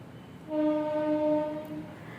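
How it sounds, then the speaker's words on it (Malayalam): A passing train sounds its horn in a sustained, steady tone over a low rumble, lasting about a second and a half and then fading to a faint background hum. "അത് ട്രെയിനിൻ്റെ സൗണ്ടാണ്"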